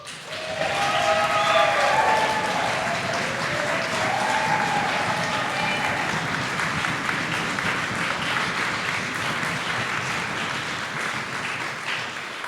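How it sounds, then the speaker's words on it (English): Children at a religious education milestones send-off clap and stomp together in a loud, sustained burst lasting over twelve seconds, with brief shrill whoops early on and a dense, rough rumble of hands and feet throughout. "You can clap, you can stomp, maybe not too much shrieking."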